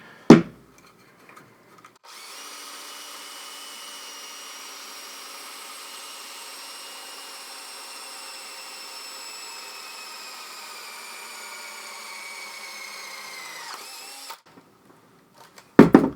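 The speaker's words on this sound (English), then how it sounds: "the gears just grind their teeth right off, and it actually slows down the drill" A drill spins a 3D printed high-ratio planetary gearbox with a steady whine and grinding. The note falls slightly as the gears grind their teeth and slow the drill. The run lasts about twelve seconds, with short clicks at the start and end.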